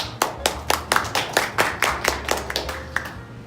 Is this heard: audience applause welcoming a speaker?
yes